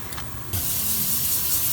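Brake cleaner aerosol sprayed onto a shop towel, a brief faint hiss followed by a loud, steady close-up spray that continues to the end.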